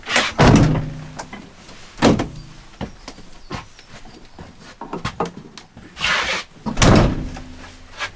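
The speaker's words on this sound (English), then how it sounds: "if we close the doors" Rear doors of a VW LT35 camper van with upholstered door cards are swung shut, giving several loud close slams and thuds with smaller knocks and rattles between them.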